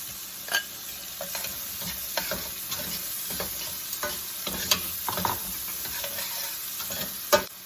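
Half an onion and fresh chopped peppers frying in a pan for a bacon, shrimp and cauliflower rice bowl, a steady sizzle broken by repeated scraping stirs and spatula knocks, close and moderately loud.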